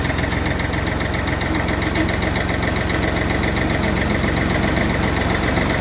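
A tractor engine idles smoothly close by, a loud, steady rhythmic chug with a faint mechanical knock that never changes pace.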